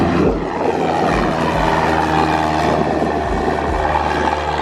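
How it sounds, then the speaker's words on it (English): A small propeller airplane takes off nearby, its engine a steady, loud droning roar that fills the whole stretch without pause, with no voices over it. "got in his plane, and took off, bro."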